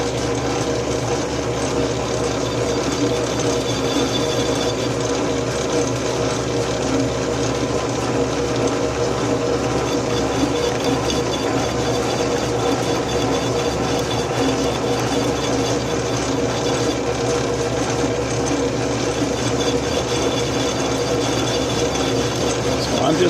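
A planer vise part being machined on a metal-cutting machine under hand feed, a steady droning motor hum with a continuous cutting whine, even and unbroken throughout, no talk.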